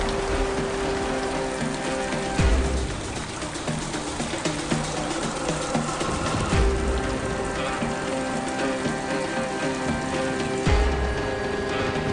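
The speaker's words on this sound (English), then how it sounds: "It's rain in my house, it rain on my bed, it rain everywhere." Steady rain leaking through a house roof patters and drips indoors onto a bed and elsewhere, a dense wash of droplets with a few louder splashes and faint rumbling underneath, no talking.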